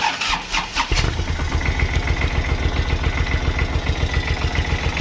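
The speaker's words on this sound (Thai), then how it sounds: "เครื่องยนต์สตาร์ทติดง่ายนะครับ" A Kubota tractor engine cranks and catches, then settles into a steady diesel idle with even, rhythmic pulses, close and moderately loud with no talking.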